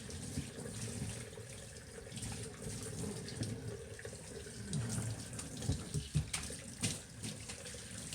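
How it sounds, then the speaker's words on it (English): Running water from a tap pours steadily while rinsing a dog during a bath at home, a continuous mid-level splashing rush with small spatters as the stream hits fur and tub. "he's rinsed, the water is rinsing real clean right now"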